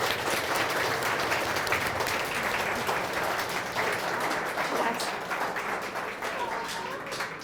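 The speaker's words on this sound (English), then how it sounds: "Can we give them a giant round of applause for being here today?" An audience at a writing celebration gives sustained applause for two guests, a continuous wash of many hands clapping at moderate distance and evenly loud throughout.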